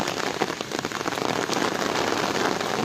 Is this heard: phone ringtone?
no